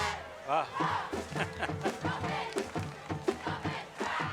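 Crowd cheering led by cheerleaders at a high school football game, rhythmic shouted chants and bursts of cheering in repeated pulses, fairly close, mixed with voices.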